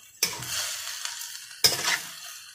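Pork and fresh chilies hit hot oil in a pan with two sudden loud sizzling bursts that fade into a softer hiss, close by and with no speech.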